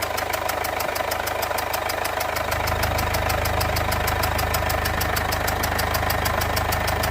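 A Mercedes CLA 220d diesel engine idles with an abnormal knocking fault, a steady close-up mechanical clatter with fast rhythmic ticking that settles into a heavier, denser drone partway through.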